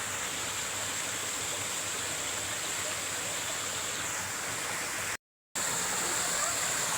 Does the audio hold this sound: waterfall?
yes